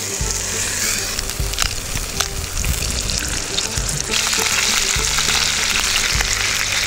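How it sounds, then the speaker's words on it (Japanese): Meat sizzles and fries steadily and loudly in a non-stick camping pot outdoors on a spring camping trip, with occasional stirring scrapes and crackles throughout. "肉入れます。"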